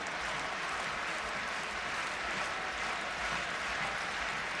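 A rugby stadium crowd at a France versus Georgia World Cup match applauds a decision, a distant, steady, even roar of clapping with no breaks.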